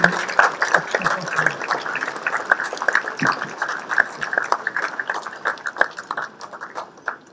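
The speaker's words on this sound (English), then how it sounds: "let's keep clapping, let's keep clapping" An audience claps for panelists arriving at a panel session on building high-performance teams, with sharp, uneven clapping that thins out over several seconds while voices talk over it.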